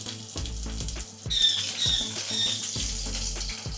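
Chopped garlic frying in hot oil with cinnamon sticks, cardamom pods and black pepper, a steady close sizzle with a few brief clinks and stirring scrapes.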